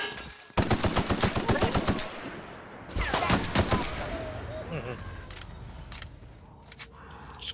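Rapid bursts of enemy gunfire in the sci-fi video game The Outer Worlds, a quick rattling volley followed by more scattered shots and mechanical clatter over a lingering game ambience, with some voice underneath.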